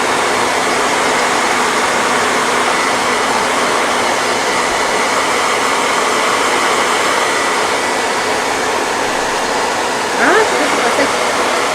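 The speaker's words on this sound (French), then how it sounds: "je termine le séchage rapide de ce téléphone" A hair dryer blows at a steady loud roar for nearly twelve seconds, quickly drying a handmade cosplay prop phone, with a brief shift in tone near the end.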